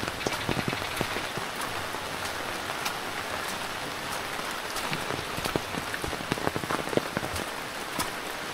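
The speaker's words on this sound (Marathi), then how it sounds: "मित्रांनो पाऊस मस्त लागतोय" Rain pours outdoors in an even, continuous patter, with individual drops clicking and splashing near at hand and no one talking.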